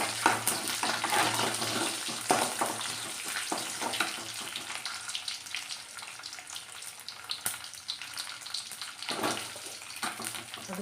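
Urad dal and chana dal frying in hot oil after mustard seeds have popped, a steady close sizzle with scattered crackles and stirring scrapes, no talk.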